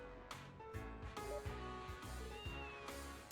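Cat meows in the Trails to Azure video game, several short plaintive meows in a row over steady game music, fairly clear, with no talk.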